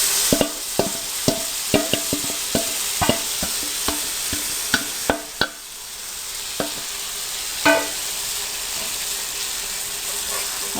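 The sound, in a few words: chicken frying with tomatoes on a tawa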